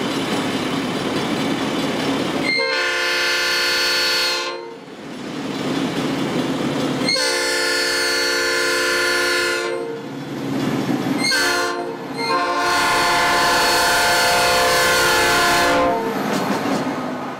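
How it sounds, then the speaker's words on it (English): A Nathan P5A horn on a Metra EMD F40C locomotive sounds several loud, sustained blasts close by, separated by brief gaps, over rumbling rail noise. "These locomotives then came equipped with an Nathan P5A horn."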